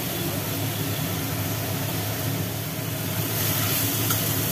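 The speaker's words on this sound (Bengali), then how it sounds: "সমস্ত মশলার উপকরণগুলো দিয়ে আচ্ছা করে কষানো হচ্ছে আর কি গ্রেভিটাকে" A tomato, onion and spice gravy sizzles steadily in a pan as it is stirred, with a dense, loud, continuous frying hiss and no voices.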